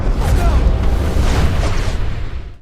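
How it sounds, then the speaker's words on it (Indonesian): A mysterious explosion from the sky in a military action film rolls out as a loud, deep, rumbling boom that sustains for a couple of seconds before fading slightly. "Sebuah ledakan misterius datang dari langit, bukan petir, bukan pesawat."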